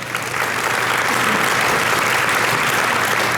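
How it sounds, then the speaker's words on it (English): A school awards day audience breaks into dense, sustained applause for students, many hands clapping together loudly and evenly from start to finish, with faint crowd murmur beneath. "Give these students a round of applause."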